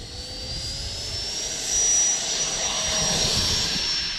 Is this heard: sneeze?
no